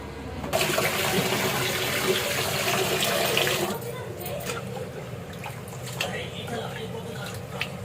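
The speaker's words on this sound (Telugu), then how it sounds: "నాలుగు లోటాలు అయితే వాటర్ పోసేసుకుంటున్నాను" Water is poured from a vessel into a pot of washed rice, a loud, close splashing gush that runs for several seconds and then tapers into a softer trickle, with a person speaking over it.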